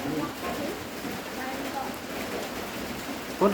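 Steady rain falls with a broad hiss, a gusty wash of wind noise underneath and faint voices in the background.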